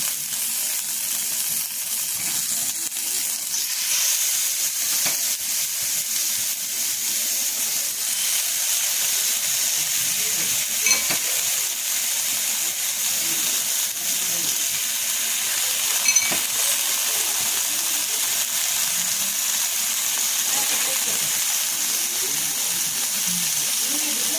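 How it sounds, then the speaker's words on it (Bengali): Paneer pieces frying in hot white oil on a frying tawa give a steady, even hiss that runs unbroken for a long stretch, with only a couple of tiny clicks and no voices. "তেলটা গরম হয়ে গেছে, এবারে পনিরের টুকরোগুলো আমি ভেজে নেব"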